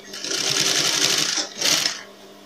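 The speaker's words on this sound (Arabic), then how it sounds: "هنبدأ نخيط كده" A sewing machine stitches a clog-style shoe in two rapid, buzzing bursts, the first longer, the second short, close and fairly loud with a brief pause between.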